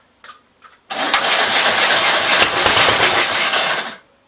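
A Gravely 65 LI tractor engine, started after sitting for a few years, comes to life after a couple of brief clicks and runs loud and steady for about three seconds before cutting off.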